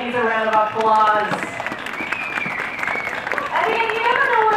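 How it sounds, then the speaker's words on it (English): Crowd applause at the Vancouver Aquarium dolphin show, steady clapping blended with sustained, wavering whistle-like tones that rise and fall across the clip. "Let's give these ladies a round of applause"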